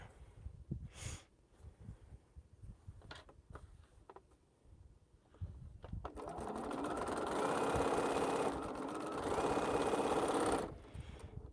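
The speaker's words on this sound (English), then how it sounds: "So I am going to sew half of this seam." Sewing machine stitching half a quilt block seam past a fat-quarter seam, a steady loud mechanical whir running for about five seconds after quieter handling noises and light clicks.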